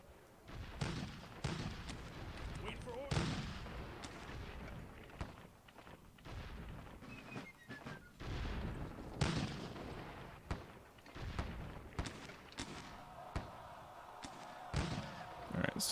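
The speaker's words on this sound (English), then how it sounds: "You can hear a noticeable decline in the cacophony of artillery" Cannon and artillery fire in Sid Meier's Gettysburg, a Civil War strategy game: repeated thumping booms and sharp reports scattered through the whole stretch, some near and loud and others duller, with a steady battle din between them.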